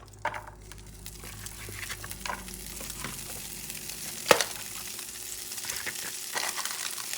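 Uncured pancetta sizzles steadily in a pan, a soft continuous crackle with a few scrapes and one sharp knock, close up and with no voices.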